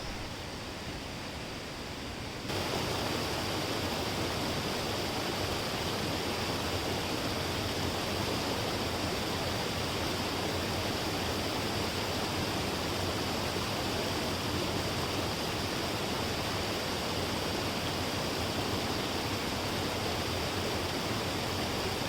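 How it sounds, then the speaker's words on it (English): A mountain water stream near Manali, on the way down to the Barod Parsha waterfall, rushes in a steady, close, loud broadband roar. It starts quieter and swells after a couple of seconds, then holds at full strength with no voices. "this water stream that we have just crossed"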